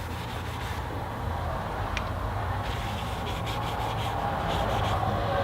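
A paper towel wipes lemon oil onto an acoustic guitar, making a steady soft rubbing sound that is close and continuous, with no speech.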